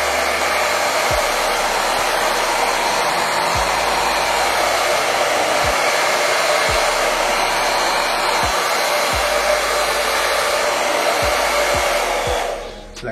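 A hair dryer blows cool air onto styled hair in a steady, loud whooshing hum, with faint soft bumps of handling underneath, running continuously before tapering off at the very end; nobody speaks.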